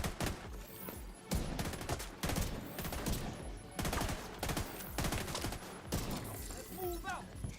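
Rapid gunfire in The Division 2 video game, loud bursts of automatic shots in quick repeated volleys with short gaps, and a voice heard over the shooting.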